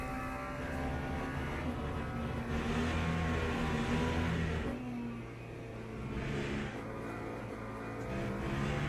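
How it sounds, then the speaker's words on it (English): A McLaren race car engine in a racing video game droning steadily and close, rising in pitch, then dropping at a shift midway before building again; no voices. "Pushing the McLaren hard is never a good idea."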